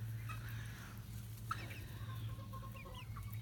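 White crested Polish chickens cluck softly in a backyard near their coop, scattered faint clucks and chirps over a steady low hum.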